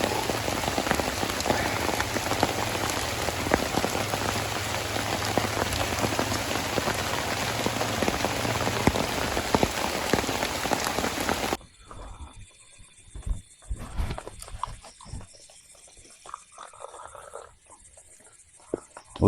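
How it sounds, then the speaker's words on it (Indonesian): Light rain patters steadily on a bamboo forest campsite, a dense close hiss for the first half before dropping away to scattered faint drips and occasional knocks. "Hujan masih rintik-rintik."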